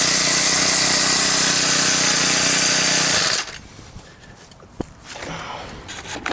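A Craftsman 32cc 4-cycle gas string trimmer, model 73193, runs loud and steady for about three seconds, then cuts off abruptly, leaving quiet outdoor ambience with a brief knock.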